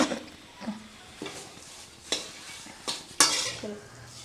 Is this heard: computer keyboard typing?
no